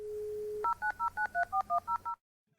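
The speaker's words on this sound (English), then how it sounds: "So this was encoded with DTMF, which stands for dual tone multi-frequency signaling" Dial-up modem dialing a number: a short steady tone, then a quick run of about nine evenly spaced DTMF beeps, clean and fairly faint, ending in silence.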